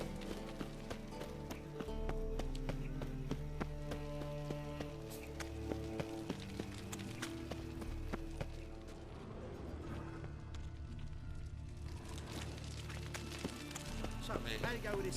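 Horse hooves galloping in The Witcher 3 game, a steady rhythmic clip-clop running on for the whole stretch, with game music and noise layered over it.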